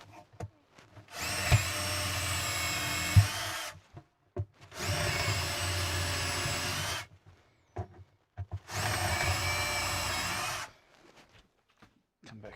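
Power drill boring pocket holes with a Kreg jig into wood, three sustained high whines of a few seconds each separated by short pauses with small clicks and handling noises.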